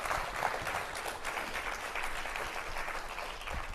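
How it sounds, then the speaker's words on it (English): A science-talk audience applauds continuously for almost four seconds, a dense, steady wash of clapping from a roomful of people, fairly loud and close. "one more round of applause for Isla"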